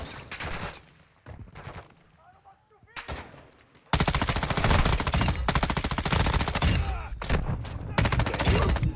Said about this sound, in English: They were just shooting at me.